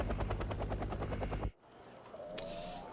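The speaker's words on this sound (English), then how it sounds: "Hey, helicopter." A helicopter in Wargame: Red Dragon thumps loudly with fast, rhythmic rotor beats for about a second and a half, then cuts off abruptly into quieter ambient battlefield noise.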